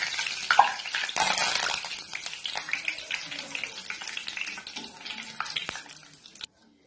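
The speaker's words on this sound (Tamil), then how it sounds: "அடுத்தது கொஞ்சம் கருவேப்பிலையும் போட்டு நம்ம பொரிச்சு எடுத்துக்கலாம்" Curry leaves crackle and sizzle as they fry in hot oil for a kara boondi snack, a dense, busy hiss with sharp pops near the start that stays steady before cutting off abruptly.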